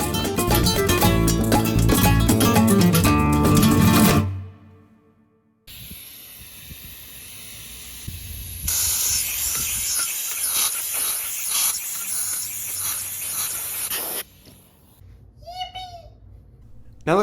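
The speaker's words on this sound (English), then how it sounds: "then took it to the air compressor to test it out" An air compressor drives a homemade valve and piston through bent 1/4-inch copper tubing, giving a strong hiss of rushing air with rapid rhythmic pulsing, preceded by a loud musical passage and a short quiet gap.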